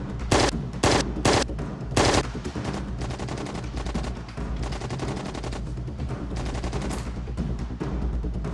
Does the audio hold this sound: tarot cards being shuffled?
no